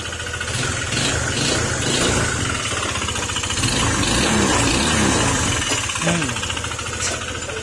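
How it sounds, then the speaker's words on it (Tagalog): A Honda ADV150 scooter engine with a connecting rod fault idles up close, a loud, steady mechanical clatter with a rapid knocking rhythm throughout. "Ito yung tunog ng makina niya mga sir."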